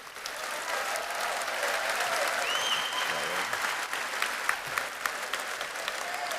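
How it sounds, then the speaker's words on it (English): A graduation crowd at East Chapel Hill High gives the school choir another round of applause, a full, even wash of clapping from many hands with a few sharper claps standing out near the end. "Let's give another round of applause for our choir department"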